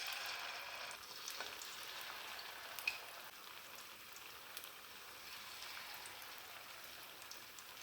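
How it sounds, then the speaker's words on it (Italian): Romanesco broccoli fritters in batter fry in hot oil, a soft, steady crackling sizzle with scattered faint pops, fairly quiet and continuous with no one talking. "Continuiamo allo stesso modo a friggere tutti gli altri."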